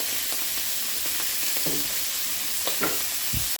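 Onions going into a hot frying pan give a loud, steady, continuous sizzle with faint stirring scrapes and small pops, close and with no talking.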